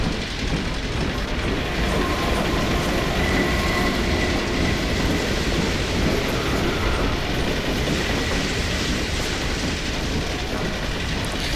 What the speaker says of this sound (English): a train with more of those things on it